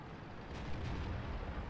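Tank cannon fire in the World of Tanks video game, heard as a muffled, rumbling boom that swells and lingers through a low, steady background.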